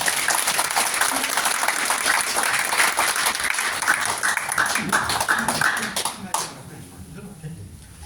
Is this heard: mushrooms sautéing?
no